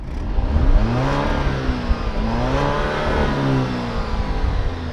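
A 2020 Alfa Romeo Stelvio Ti Nero Edizione engine climbs through revs and shifts gears, the pitch rising and dropping in repeated swoops, heard from inside the car at moderate loudness with no speech.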